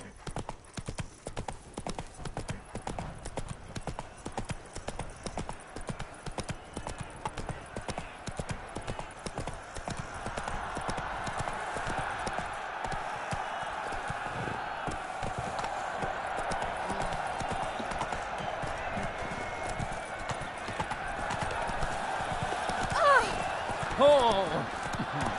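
Roach, a horse in the video game The Witcher 3: Blood and Wine, clip-clops along steadily on hard ground with a fast, even hoof rhythm, joined by a swelling ambient music bed partway through.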